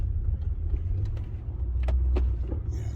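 A BMW F10 M5 sits idling with a steady low engine rumble, close and continuous, with a few faint clicks and rattles over the top.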